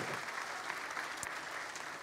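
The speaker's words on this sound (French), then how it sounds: "Oui, on peut applaudir parce qu'il y a du boulot." Audience applause at a mayor's New Year address in Béthune, a steady, dense clapping from a hall crowd that holds at an even level throughout.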